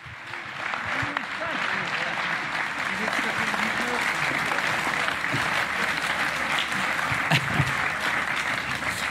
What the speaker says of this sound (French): Mesdames, Messieurs, je vous demande d'applaudir Monsieur Pierre Bédier